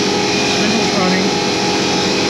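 ShopBot CNC router spindle running over an OSB workpiece, a loud, steady high-pitched whine and hum with constant tone, close and continuous throughout.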